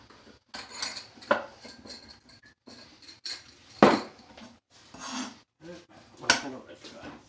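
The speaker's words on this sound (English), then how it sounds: "while I'm waiting for that, I'll chop an onion." An onion is chopped with a knife on a board in a home kitchen, giving scattered knocks and scraping taps at an uneven pace, close and moderately loud, with light clatter of utensils between strokes.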